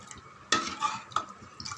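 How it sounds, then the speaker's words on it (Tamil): Rice flour batter with rock salt stirred in a pot on the stove, a few soft scrapes and liquid sloshes from a spoon against the pot, close and fairly quiet. "கை விடாமல் நல்லா கலந்து விட்டுன்னு இருக்கணும் ஃப்ரெண்ட்ஸ்"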